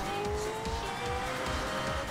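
A Lego McLaren Senna in Forza Horizon 4 drives at speed, its engine a steady, high, straining whine with rising tones and a faint tire hiss, loud and close throughout.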